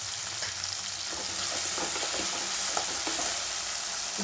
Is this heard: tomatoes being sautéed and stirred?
yes